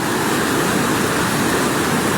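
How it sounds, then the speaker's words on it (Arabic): Flash flood water rushing through a wadi in Palestine after heavy rain, a dense, steady roar of churning water that stays loud and unbroken throughout, with no voices. "تندفع المياه بهذا الشكل إخواني."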